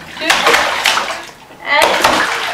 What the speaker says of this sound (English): You splash the water.